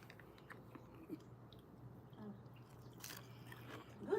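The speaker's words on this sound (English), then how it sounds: "Crunchy, huh? I can hear the crunch from here." Crunchy peppered food being chewed, soft crisp bites and mouth noises repeating close by in a quiet room, with a faint hum underneath.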